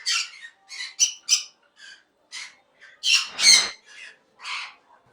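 Pairs of yellow-sided and pineapple conures at a breeding farm give sharp, raspy squawks in short bursts of uneven rhythm, close and clear, with no talk over them.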